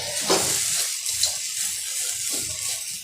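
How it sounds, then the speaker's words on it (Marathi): Tapioca pearls being sautéed and stirred in a pan with chillies for sabudana khichdi, making a steady, close sizzle with soft scraping and stirring sounds throughout. "3 ते 4 मिनिट आपले परतून झाले साबुदाणे।"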